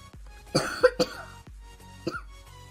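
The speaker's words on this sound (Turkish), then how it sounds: "Kusura bakmayın arkadaşlar. Öksürebiliyorum." Three or four sharp coughs in quick succession, close and fairly loud, followed by a pause and one more cough, with no talking.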